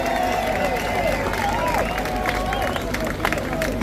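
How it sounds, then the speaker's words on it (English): A large crowd at a political rally applauds and cheers in a dense, continuous wash of clapping, with scattered shouts and whistles rising above it. "I want to give a massive round of applause to this man over here"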